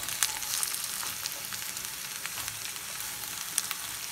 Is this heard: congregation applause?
no